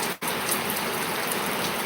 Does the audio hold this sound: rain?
yes